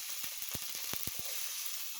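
Curry leaves with mustard seeds and cumin sizzle in hot oil for a bean fry, a steady bright hiss punctuated by several sharp popping crackles near the pan.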